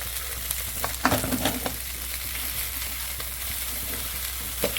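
Cabbage, capsicum, beans and carrot sizzling and frying in a pan for chicken fried rice, a steady close crackle with a few louder stirring clatters, no voices.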